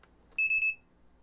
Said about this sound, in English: And when you turn it on, you get the double beep.